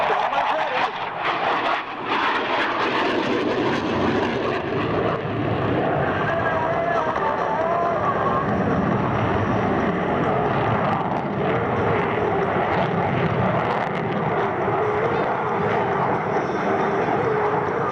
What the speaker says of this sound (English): the slow speed agility of the CF-18 as he puts the aircraft through the next repositioning maneuver